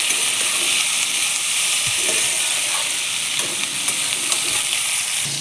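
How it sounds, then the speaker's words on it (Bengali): Boiled yardlong beans are stirred into masala frying in a pan, making a loud, continuous close sizzle and hiss with occasional soft scraping stirs. "এর মধ্যে দিয়ে দিচ্ছি আগে থেকে সিদ্ধ করে রাখা বরবটিগুলো"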